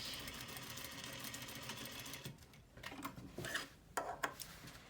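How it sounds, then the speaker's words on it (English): A sewing machine stitches along the edge of a fabric face mask casing, a faint rapid mechanical whirring that runs steadily, then stops and restarts in short bursts. "And I can sew on the edge."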